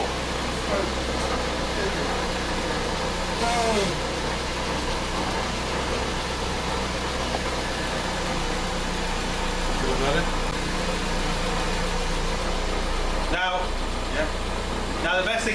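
A Toyota Celica, parked for five years, idles steadily in a garage with a constant low engine drone throughout, while people talk faintly over it.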